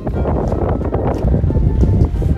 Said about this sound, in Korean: 바람이 세.